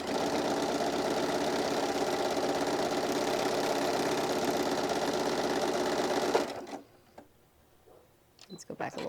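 A sewing machine stitches a simple zigzag across a keychain wristlet, its motor buzzing steadily and close for several seconds, then stopping, followed by quieter handling noises.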